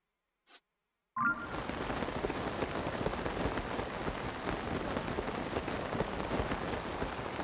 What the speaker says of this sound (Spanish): No, lluvia para rato, ¿eh?